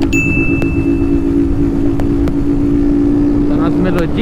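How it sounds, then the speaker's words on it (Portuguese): A car engine drones steadily and loudly at close range as the driver shifts gear, with wind noise around it and a few brief clicks and knocks. "Vou meter marcha."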